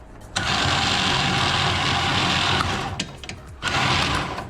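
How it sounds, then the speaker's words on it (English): A Warn winch on a Mule Pro FX runs under power, wired directly for a test: a loud, steady electric motor whine that holds for several seconds, dips briefly, then surges back up. "let's test the winch to make sure it's good"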